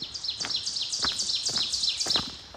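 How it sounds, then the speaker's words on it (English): A territorial bird on a hiking trail calls loudly and repeatedly, bright chirping phrases tumbling over one another close by with a few low thumps underneath and no talking. "That bird was going crazy."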